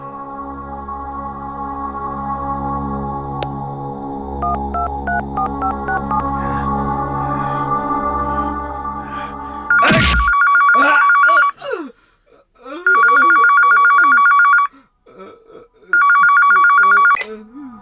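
A phone line hums with dialing tones, then a loud electronic telephone ring repeats in three long bursts separated by pauses.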